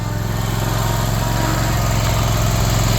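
A riding lawn mower engine runs steadily, crossing a parking lot, with a loud constant low drone and hum that holds level throughout and carries no speech.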